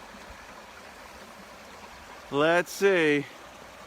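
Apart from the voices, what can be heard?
flowing stream water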